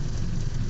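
Steady rain falling outside a home, a dense continuous patter with a low rumbling undertone, fairly loud and unbroken.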